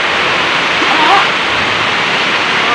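Floodwater on an island rushes in a loud, continuous wash close by, with brief faint sounds rising over it midway and no clear speech.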